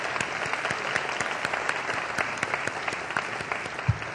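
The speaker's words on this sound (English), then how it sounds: "A special round of applause." Sustained applause from an audience at a Law Day celebration honouring Merit Performance Award winners, a dense, even roar of many hands clapping in a large room, with one louder thump near the end.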